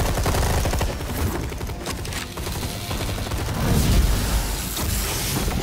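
Sustained gunfire in Batman: The Telltale Series, a dense, loud barrage of rapid shots with heavy booming low end rolling continuously and swelling near the end, no talking over it.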